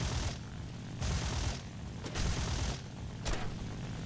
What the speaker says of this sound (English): Eat cannon fire!